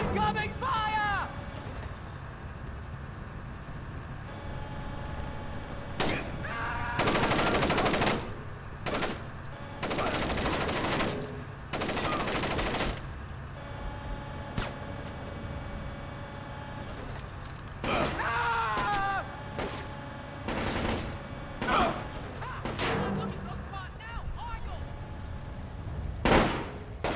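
Gunfire from Splinter Cell: Chaos Theory, several sharp bursts and volleys spread through the stretch over a steady low background hum, with voices talking between the shots.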